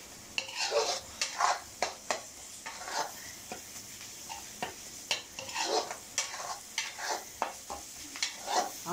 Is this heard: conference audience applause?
no